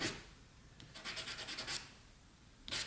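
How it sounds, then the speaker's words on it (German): Sanding a polystyrene plastic rod smooth by hand, with a soft rasping rub that comes in a quick run of short strokes midway and then again briefly at the end, close and quiet with no talk. "ein bisschen glatt schleifen."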